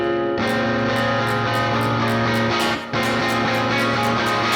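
Electric guitar run through the Neural DSP John Mayer X amp plugin with a room impulse response blended in, playing sustained chords with a steady, full tone. There is one brief dip near the end, and no voices.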